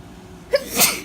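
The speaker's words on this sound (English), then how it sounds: "About to sneeze, sorry if I do." A single loud sneeze bursts out close up after a brief sharp intake of breath.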